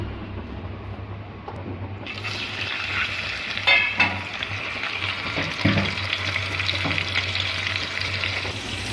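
Oil in a pan for frying eggs begins a hissing sizzle that jumps in a couple of seconds and then holds steady, with a low background hum and a few clinks and knocks, no talking.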